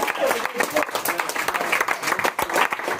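Audience at a social-talks debate on cilantro versus basil applauds after a vote, a dense wash of clapping that fills the whole stretch with voices mixed in.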